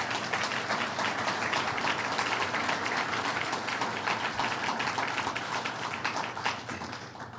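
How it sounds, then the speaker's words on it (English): A business council annual meeting crowd in New York State claps for the governor's economic development team, dense sustained applause filling the room for several seconds before tapering slightly at the close. "I'd like to give them a round of applause"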